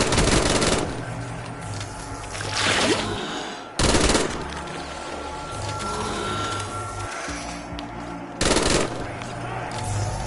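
Rapid automatic gunfire in a zombies video game on a pizzeria map at veteran difficulty, loud bursts with a few brief pauses between sustained volleys and a dense clatter of shots throughout.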